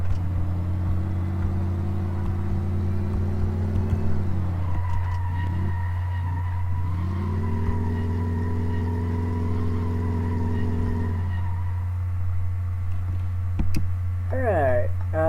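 A junk car in a video game drives with a steady low engine drone beneath rising and falling revs through shifts, continuous and close, without speech.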